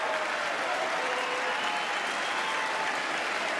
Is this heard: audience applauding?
yes